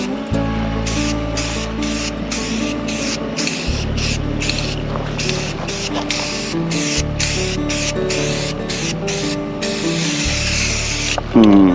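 An aerosol rattle can sprays black paint onto a dump bed in a garage, a steady close hiss broken by short pauses between passes, with a low background hum underneath.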